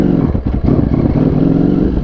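A Ducati motorcycle on gravel, its throttle cut by electronics during an attempted burnout, gives a loud, steady engine rumble with a brief dip in power and no tire spin.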